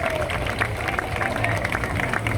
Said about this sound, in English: Everyone give Daniel the Ice Bomb Extraordinaire a big round of applause